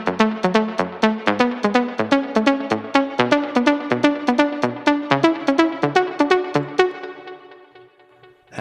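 A melodic house synth lead plays a steady rhythmic sequence of short, punchy notes with varied velocity, loud and alone, then stops and lets a reverb tail fade out over the last two seconds.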